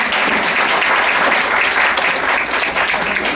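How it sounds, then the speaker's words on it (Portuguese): An audience applauds a choir at an evening gathering with a lecture: dense, steady clapping from many hands, loud and continuous throughout, with no voices standing out. "Uma salva de palmas para o coral."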